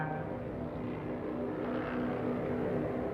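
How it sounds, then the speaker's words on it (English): Junkers Ju-87 Stuka dive bomber from World War II, a constant broad engine roar with a faint rising whine, fairly distant and steady, no talk. "The most notorious was the Junkers Ju-87 Stuka dive bomber"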